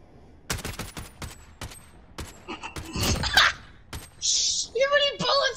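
A handful of sharp, separate gunshots from a shooter video game, some of them quick bursts and some single shots, with players talking over them.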